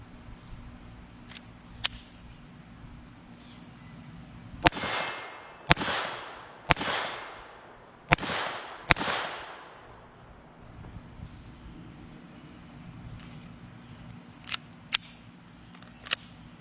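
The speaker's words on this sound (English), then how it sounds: "let's shoot this thing and see how she's hitting for us" Taurus TX22 Gen 2 .22lr pistol firing Remington Golden Bullet rounds outdoors, five sharp cracks spaced about a second apart in the middle, with a few fainter ticks before and after.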